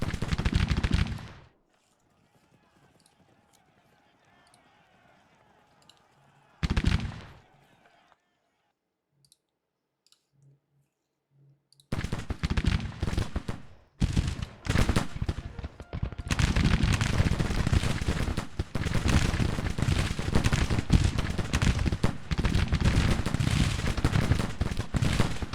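Gunfire from Grand Tactician: The Civil War, with short bursts and clicks early on, then long stretches of dense, loud crackling volleys and shots.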